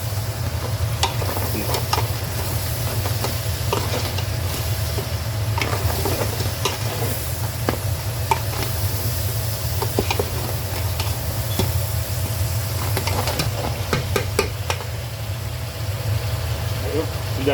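Crab and shrimp being stirred in a pan, with steady sizzling and scraping of the utensil throughout, a low hum underneath and a few sharper clinks.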